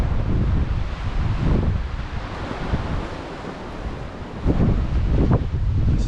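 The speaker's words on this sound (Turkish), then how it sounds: "Ne kadar rüzgar olduğunu sesten tahmin edebiliyorsunuzdur." Strong wind roars and buffets the microphone continuously, with surging gusts and a low rumble, loud and close throughout.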